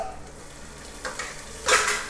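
Potatoes frying in a pot with golden-brown onion and garlic, a soft steady sizzle with a few louder stirring scrapes and bursts near the end.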